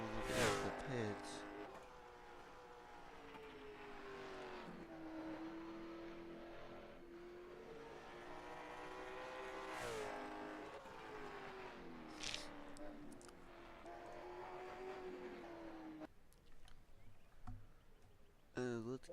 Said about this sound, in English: the cars will be pulling out the pits